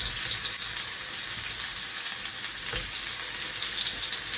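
A slice of pollock browning in a frying pan, a steady close sizzle and hiss of frying that runs on without a break.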